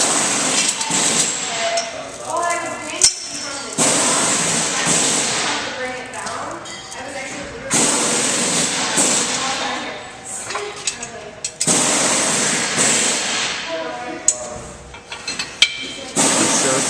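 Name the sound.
cranking up the arms of a wheel dolly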